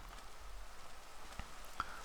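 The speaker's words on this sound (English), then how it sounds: "And it is raining." Steady soft rain patters in a video game, a continuous hiss with a few faint droplet ticks, fairly quiet and alone.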